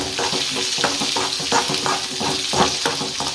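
Lengthwise-sliced onions fry and are stirred in a pan for an aloo gobi gravy, a continuous close sizzle under a repeated rhythmic scraping of the stirring spoon, with no talking.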